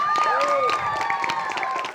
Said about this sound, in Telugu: So really ఒకసారి చప్పట్లు కొడదామా?